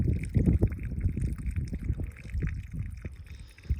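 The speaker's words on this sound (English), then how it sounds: "We got water pouring out of this ground" Water gushing out of swampy ground, a continuous close bubbling, trickling flow with irregular splashy surges throughout.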